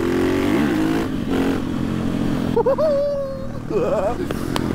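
A new KTM 500 EXC-F motorcycle revs on an open road, its engine pitch climbing in a couple of quick sweeps while people talk over it.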